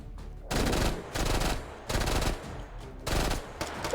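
An open-bolt Mac submachine gun fires in the VR shooter H3VR: four loud, rapid full-auto bursts of about half a second each, separated by short pauses.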